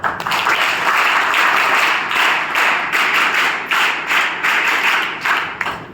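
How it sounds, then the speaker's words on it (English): At a university event in Surat, an audience gives a guest speaker loud, close applause, a dense run of clapping that swells and ebbs for several seconds. "please join me in giving a huge round of applause"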